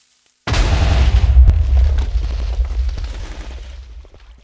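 A sudden deep boom of a Minecraft TNT cannon bursts in after a moment of silence, then rumbles and slowly fades over several seconds.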